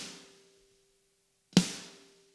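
Single snare drum hit layered with a Slate snare 12 sample and a room mic, one sharp crack at close range with a ringing decay, following the tail of an earlier hit.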